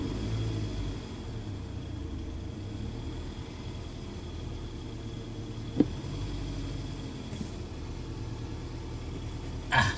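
A Toyota ACV30 car engine runs with an electric throttle fitted, holding a steady low idle rumble at moderate level, broken by a couple of sharp clicks.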